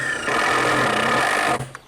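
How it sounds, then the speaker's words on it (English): Power drill whirring steadily for under two seconds as it drives screws into cabin wall framing, a close continuous motor whine that cuts off abruptly. "Put a couple screws in, please."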